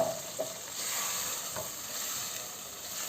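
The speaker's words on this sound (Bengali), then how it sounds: "টমেটো আদা পেঁয়াজ রসুনের পেস্টটা দিয়ে দিচ্ছি দিয়ে আমি কিছুক্ষণ রান্না করব" A paste of tomato, ginger, onion and garlic sizzles softly with chicken in a pan, a faint, steady frying hiss with a few light stirring scrapes and no voices.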